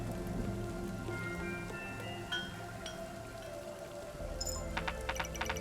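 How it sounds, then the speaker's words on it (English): Steady rain in the video game Kingdom Two Crowns, a dense continuous patter under a low hum, with a few faint tonal chimes and small clicks over it toward the end. "God, listen to that rain"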